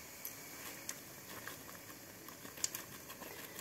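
Water heating toward a boil for soup gives a faint, soft patter of small bubbles and light ticks, quiet and steady throughout.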